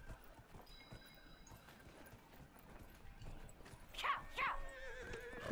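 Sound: horse hooves and neighing in the video game Dragon Age: Inquisition

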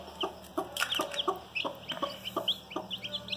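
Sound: newly hatched chicks chirping

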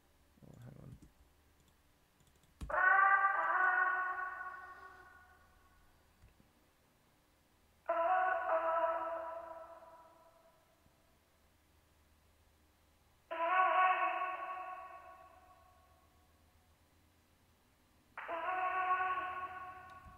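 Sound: Arcade vocal sample with bit crusher underwater effect

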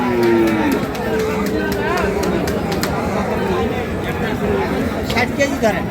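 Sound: Sahiwal bull mooing at a cattle market

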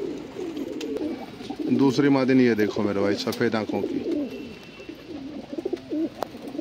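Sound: Punjabi pigeons cooing

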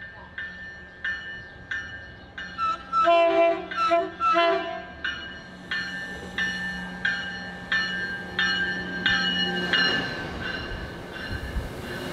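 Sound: train horn

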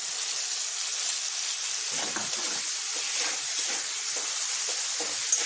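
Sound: spice paste frying in hot oil

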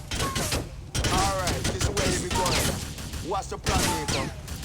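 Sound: gunfire in video game GTA 4

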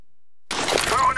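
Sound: incendiary grenade shattering in video game CS:GO

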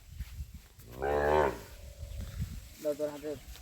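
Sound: Sahiwal bull cattle

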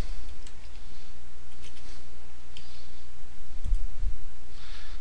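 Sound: typing on a computer keyboard

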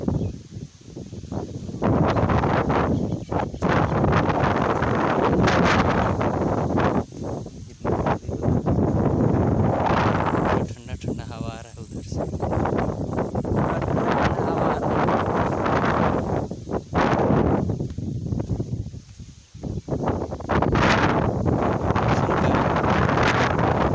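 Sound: strong wind blowing with thunder and drizzle

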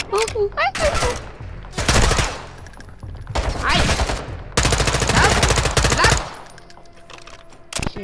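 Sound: gunfire in the Call of Duty MW2 video game

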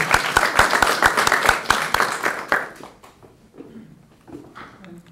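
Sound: conference audience applause for the speakers

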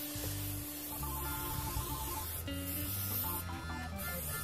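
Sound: spraying canola oil cooking spray

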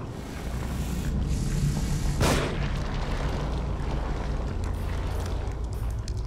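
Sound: gunshot in the video game The Evil Within

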